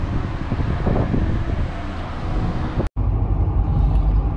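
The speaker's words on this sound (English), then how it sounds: "So I am officially driving" A car being driven, steady engine and road rumble with wind noise close to the microphone, interrupted by a brief dropout before the drone continues.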